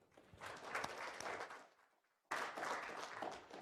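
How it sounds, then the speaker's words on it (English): An audience at an entrepreneurship event applauds its sponsors in two bursts of many clapping hands, the first fading to near silence before a second swell begins abruptly. Both are faint and distant. "One more round of applause for them as well."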